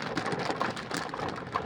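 Heavy rain pours down steadily in a city area, a dense continuous hiss of drops with no pauses, moderately loud throughout.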